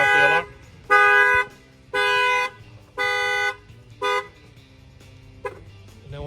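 A 2020 Dodge Charger 392 Hemi car alarm, triggered by its shock sensor, blares in five loud, harsh honking bursts separated by short gaps, with a fainter chirp near the end.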